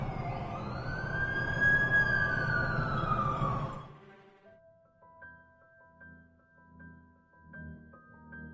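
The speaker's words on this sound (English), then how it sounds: "That's the ambulance I called." An ambulance siren wails loudly and close for about four seconds, its pitch sweeping up and down, then cuts off, leaving only faint low background tones.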